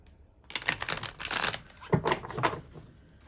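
Tarot cards shuffled by hand at close range in two quick bursts of riffling and shuffling, with a short pause between them and no voices.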